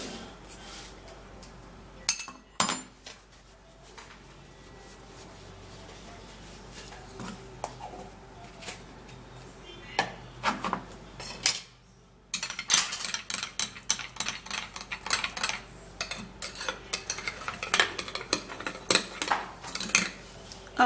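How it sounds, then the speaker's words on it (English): A spoon clinks and scrapes against a bowl while a teaspoon of baking soda is stirred in, with irregular metallic taps that grow busier and denser toward the end. "So I'm going to be putting in 1 teaspoon of baking soda."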